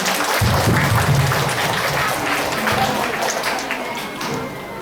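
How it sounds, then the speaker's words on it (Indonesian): Audience applause at a school children's performance, clapping steady but mixed with some voices and taps, moderately loud and tapering toward the end. "Beri tepuk tangan yang meriah."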